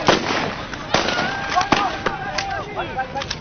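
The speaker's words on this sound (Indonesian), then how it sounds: "Tembakan gas air mata terpaksa dilepaskan polisi" Sharp bursts of gunfire-like pops from police firing tear gas ring out repeatedly under a noisy crowd of villagers during a clash, with several loud cracks spread irregularly across the moment.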